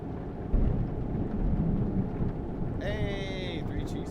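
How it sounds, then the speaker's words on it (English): Low rolling thunder rumbles through a video game thunderstorm alongside steady rain, with a brief tonal game sound cutting in near the end. "See that lightning? Hear that thunder rumble?"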